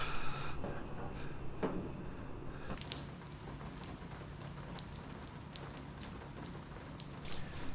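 Rain falls outside in a continuous soft patter, with a few scattered knocks and clicks nearby, steady and fairly quiet.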